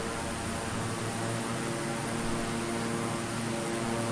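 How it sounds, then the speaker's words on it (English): Hawk jet engine noise in a flight simulator, a steady broadband roar with a constant whine and hum, loud and unchanging throughout, with no talk. "I could hear the Hawk jet noise coming in."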